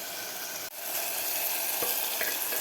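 Onion and tomato sauté in a pressure cooker pan, giving a close, steady sizzle with a few brief stirring knocks and no talk.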